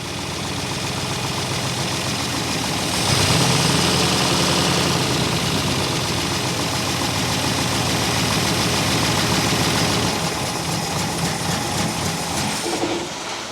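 A seized 1964 Buick Electra engine running at idle with a partly plugged idle circuit, a steady rough mechanical rumble that swells slightly after a few seconds, then holds close and loud before cutting off near the end.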